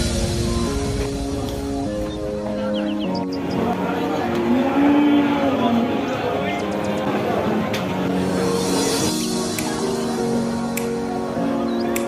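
Calves and young bulls at an outdoor cattle market near a border area, Friesian, Gir, Jersey and local breeds among them, moo in long drawn-out calls that overlap through a busy crowd murmur, with some calls close and others farther off.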